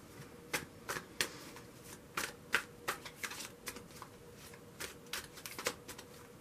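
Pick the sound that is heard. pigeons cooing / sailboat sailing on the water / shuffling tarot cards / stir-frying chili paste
shuffling tarot cards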